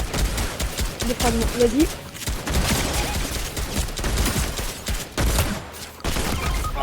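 Gunfire rattles in Fortnite Battle Royale, with bursts of rapid shots and impacts amid game effects, while players talk excitedly over the action.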